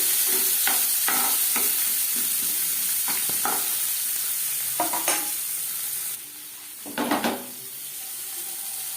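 Green peas being stirred into a hot pan with the flame off, giving repeated soft scraping strokes over a steady low sizzle, close and moderately loud, with a louder burst of stirring near the end.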